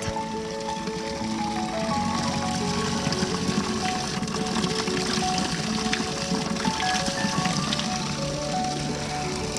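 Mountain spring water near a forest trickles and splashes continuously at close range, an even babbling flow with a faint tonal hum underneath.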